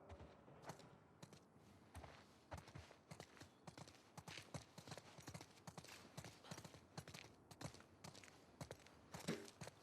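Horses plod along in The Last of Us Part II, hooves clip-clopping in a brisk, uneven rhythm of hard knocks, faint and distant with soft background ambience.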